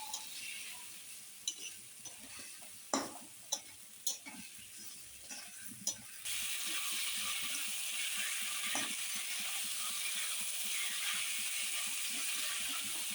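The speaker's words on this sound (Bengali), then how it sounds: "দেখো, এবার এটাকে ভালো করে কষিয়ে নিচ্ছি।" Fish curry with bitter gourd and spices being sautéed in a pan, with a few sharp stirring knocks early on, then a steady close sizzle of frying that runs on to the end.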